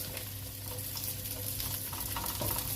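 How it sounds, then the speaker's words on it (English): Green beans frying over high heat in a paella pan, a dense steady sizzle with faint scraping of a utensil as they are stirred, no talking. "Alright, let's give these a stir."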